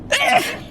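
A single close sneeze bursts out loud and sharp, then trails off quickly into quiet room tone.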